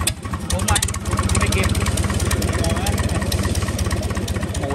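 Isuzu 4BD1 diesel engine, 80 hp, rated 2800 rpm with 102 mm bore, running on a boat: a loud, close, rapid clattering knock repeating evenly after a brief uneven start, with people talking over it.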